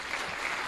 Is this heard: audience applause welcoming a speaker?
yes